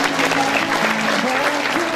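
Audience applause at the inauguration ceremony for a new campus building: dense, steady clapping from a crowd that fills the whole stretch at an even level, with faint sustained tones underneath.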